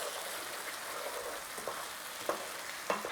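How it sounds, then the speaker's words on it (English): Brown sugar being stirred into a hot pan while cooking tandoori murgh masala, a steady sizzle and fry with a few sharp clinks of the spoon near the end, close and fairly loud, no talking. "Give that a little mix in and get that sugar melted and dissolved in there."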